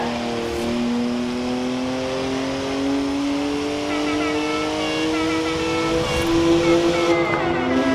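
BMW sports car in Forza Horizon 4, rear-wheel drive, its engine note rising steadily as it accelerates through the gears, a sustained loud drone with harmonic whine throughout, no talking over it.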